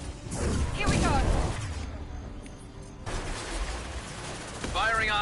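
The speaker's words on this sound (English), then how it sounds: "Firing a high-impact shot." High-impact gunshots in Mass Effect 2 combat: loud, sharp bursts of fire up close at the start and again near the end, separated by a quieter stretch, with in-game voices between them.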